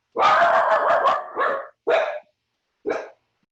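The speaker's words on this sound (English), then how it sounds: "I have a puppy that has a mind of its own" A puppy barks loud and close, a sustained yapping burst followed by two shorter separate barks, with no talk over it.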